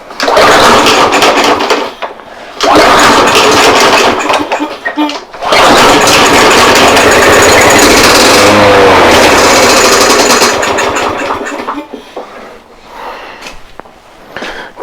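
A lawn mower engine starts and runs loudly with a clanking, rattling sound, cutting out briefly twice before running steadily and then fading down near the end.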